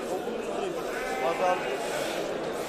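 A black goat bleats in a wavering cry amid steady background noise and nearby voices at the Burdur Çavdır livestock market, the call rising briefly before fading back into the murmur.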